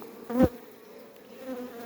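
Honeybees buzz around frames from a package colony, with one bee flying close past the microphone in a brief loud pass over a quieter steady hum.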